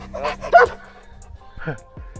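A dog barks twice on a mountain hike trail near Ravnets hut above Karlovo in Bulgaria, short sharp yaps close by, mixed with people talking.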